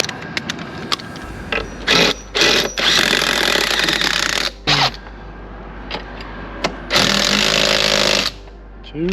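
A power tool drives bolts in to mount a hydraulic jack plate on a boat, loud whirring bursts starting and stopping repeatedly, some long and some short, with quiet gaps between.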